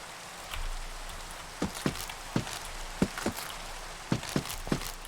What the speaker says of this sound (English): It continues to rain every single time we come out here.